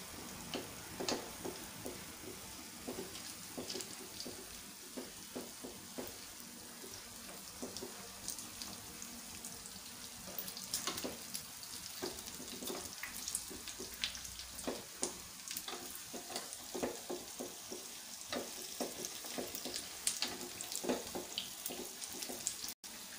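Unniyappam, sweet fritters, fry in a pan after being turned over, giving a long, steady bubbling sizzle with frequent small crackles and pops throughout.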